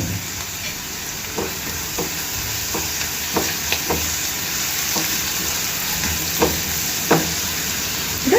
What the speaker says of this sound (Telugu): ఇప్పుడు 1 నిమిషం పాటు వేయించుకున్నాము.